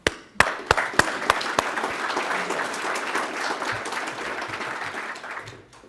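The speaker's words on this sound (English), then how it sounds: "I think you all should applaud each other" A few loud, separate claps ring out first, then a room full of people at a financial services event breaks into steady, moderately loud applause that tapers off at the end.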